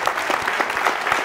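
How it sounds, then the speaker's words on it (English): A cinema audience at a film Q&A in Amsterdam bursts into warm applause welcoming director Ken Loach, a loud, dense wash of many clapping hands with no pause. "Can I please have your warmest applause for Mr. Ken Loach."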